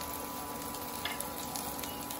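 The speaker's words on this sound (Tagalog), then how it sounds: "gisa muna natin ang luya" Ginger sautéing in a pressure cooker gives a faint, steady sizzle with a soft hiss throughout and a few light scraping stirs, heard alone at low volume.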